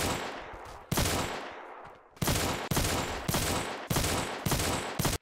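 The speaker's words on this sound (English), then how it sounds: "The real Toji uses a gun." Gunfire from a Glock in a VR video game: about six loud, sharp bursts of rapid shots in quick succession, close and filling the clip.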